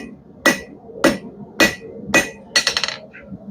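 A blacksmith's hammer strikes hot metal while forming a chain hook, setting a shoulder on the piece's edge: four sharp, ringing blows at an even pace, then a quick rattling flurry of lighter taps, close and loud.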